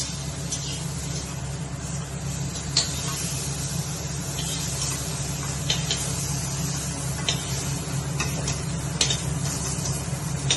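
Fried pointed gourd is lifted out of a pan of hot oil: a constant close sizzle with a low hum underneath and occasional light clicks from the utensil.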